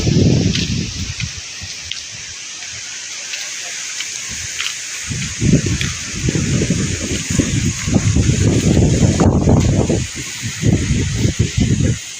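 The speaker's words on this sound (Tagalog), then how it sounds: "Kay kusog ang hangin oh." Strong wind blows outdoors where laundry hangs, with gusty rushing and rustling that swells and fades in waves, loud and close, under a constant high hiss.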